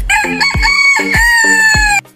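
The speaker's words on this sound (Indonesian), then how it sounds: "Ayam jantan memiliki penyumbat telinga bawaan, sehingga mereka tidak tuli saat berkokok." A rooster crows loudly and close, a long drawn-out cock-a-doodle-doo with a few sharp clucks mixed in, filling the whole stretch before cutting off abruptly.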